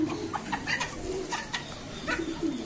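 Pigeons coo softly and repeatedly, several birds overlapping in low, throaty calls against a busy outdoor background.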